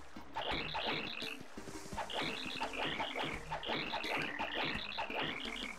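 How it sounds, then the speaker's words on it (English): A frog croaks in the Paper Mario: The Thousand-Year Door video game, giving a steady, rhythmic run of bright, ringing croaks that shift in pitch and repeat continuously at close range. "How's the frog sound?"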